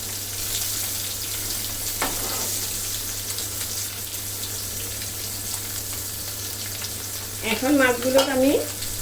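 Koi fish frying in hot oil in a kadai, a steady close sizzle and bubbling throughout, with a brief stir or scrape near the start and a person speaking briefly near the end.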